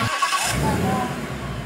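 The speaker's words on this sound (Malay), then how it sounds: "So saya start engine" A Ford Mustang GT 5.0 V8 engine cranks and catches, settling into a loud, deep rumbling idle close by.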